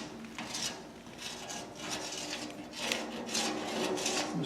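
Welding-shop chalk drags across a metal sheet while a pattern is traced, giving repeated soft scraping strokes that rise and fade in an uneven rhythm, close and fairly loud, with no talking.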